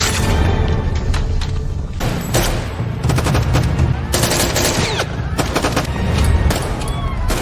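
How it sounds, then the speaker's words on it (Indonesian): Loud, close gunfire crackles continuously, with rapid bursts and single shots overlapping in a chaotic exchange, heavy booms underneath. "pihak musuh yang melihat keberadaan Gunner langsung melepaskan tembakan, sehingga terjadi kontak senjata api"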